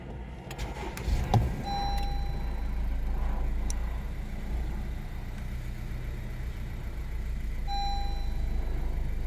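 A 2018 Honda CR-V starting up, heard as a short burst of ignition noise followed by a steady low idle hum with faint electronic chimes. No voices.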